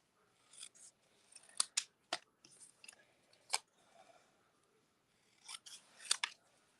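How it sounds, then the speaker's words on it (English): Paper snips cut through stamped paper sentiments in a crafting session, giving a series of crisp, close snipping clicks in irregular bursts with quiet pauses between cuts. "I can't resist cutting my sentiments with a paper snips"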